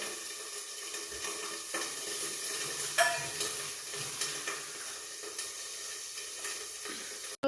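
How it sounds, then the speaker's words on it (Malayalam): Food pops and sizzles in a covered pan at home. The hiss stays faint and steady, with occasional sharper crackles and one short louder pop near the middle. "പൊട്ടാൻ തുടങ്ങിയിട്ടുണ്ട് മക്കളെ കേൾക്കുന്നില്ലേ"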